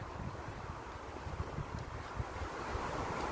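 Light wind blowing outdoors in a garden, a soft, steady rushing with low buffeting thumps against the microphone and no talk.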